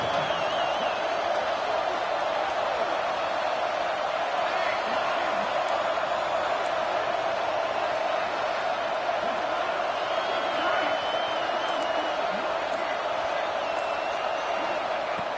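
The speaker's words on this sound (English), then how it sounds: "this home crowd is fired up and ready to make a difference today" Home football crowd at a stadium during a Purdue game, a steady loud roar of cheering with scattered whoops and whistles sustained throughout.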